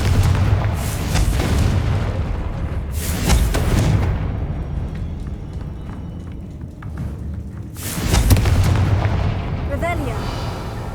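A Confringo blasting spell in the Hogwarts Legacy video game sets off deep booming explosions, two big blasts a few seconds apart over a rumbling battle backdrop, with spell incantations spoken in between.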